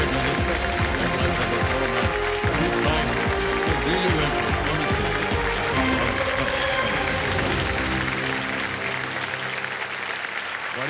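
The studio audience of Kaun Banega Crorepati season 17 claps steadily and loudly for a departing contestant. The applause runs about eleven seconds, mixed with swelling show music, and eases slightly toward the end.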